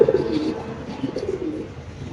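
Pigeons coo repeatedly at a pigeon farm, soft throaty calls overlapping close by with a few faint chirps.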